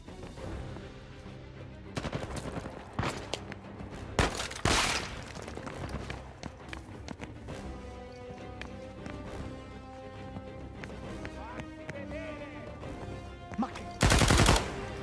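Gunfire from the Uncharted 4 video game crackles in scattered bursts and single shots over a tense musical score, ending with a loud, close volley.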